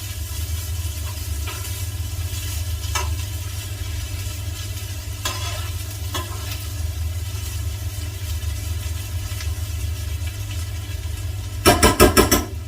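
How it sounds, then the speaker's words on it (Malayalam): A Kerala-style green gram stir fry (cherupayar thoran) being stirred in a pan: a constant low rumbling hiss with a few faint scrapes, then a brief louder burst of clattering stirring near the end. "എല്ലാം കൂടി നമുക്ക് ഒന്ന് ഇളക്കി യോജിപ്പിച്ച് കൊടുക്കണം."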